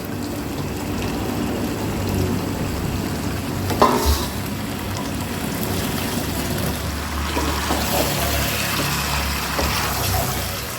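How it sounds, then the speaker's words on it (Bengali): Chicken with green chillies is stirred with a spice mix in a hot pan, a continuous sizzling, scraping stir with a spatula and one brief clatter near the middle. "ভালোভাবে মশলাটাকে মিশিয়ে নিচ্ছি পুরো মাংসটা সঙ্গে"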